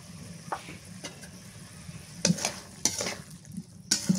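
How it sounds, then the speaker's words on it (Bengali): Tomatoes stirred and fried in spiced masala in a pan while cooking hilsa fish with eggplant, soft sizzling with a few sharp clacks of a spoon against the pan. "টমেটো দিয়ে সুন্দর করে কষাই নিয়ে তারপরে মাল দিয়ে দিব"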